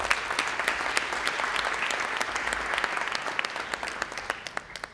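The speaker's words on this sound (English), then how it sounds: "so please a big round of applause for them." An audience at a peace-building conference applauding: dense, steady clapping throughout, with some louder individual claps standing out and the applause gradually thinning toward the end.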